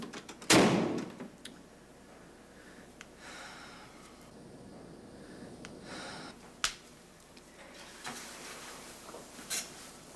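A bedroom door is shut with a single sharp, loud bang near the start. Quiet room tone follows, broken by a few small knocks and rustles.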